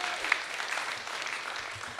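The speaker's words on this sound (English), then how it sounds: "Give Tegan a round of applause" A live audience at a comedy talk show gives a volunteer a round of applause, steady clapping filling the room evenly for the full two seconds with a faint crowd murmur underneath.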